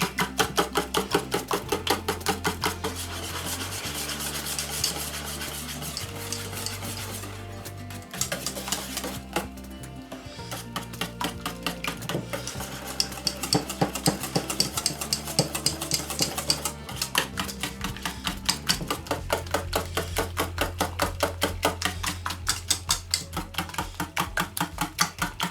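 Flamiche batter with Maroilles cheese is beaten and mixed, a fast steady clatter of a utensil against the bowl that keeps an even, rapid rhythm from start to finish.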